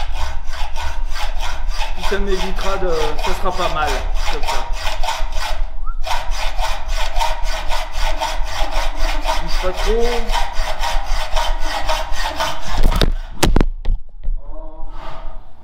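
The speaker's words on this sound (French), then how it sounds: "Et là, à la scie à métaux, je vais pas sortir la disqueuse." Hacksaw cutting a metal tube clamped in a vise, with rapid, steady back-and-forth rasping strokes close up, pausing once briefly before resuming; someone speaks quietly now and then over the sawing.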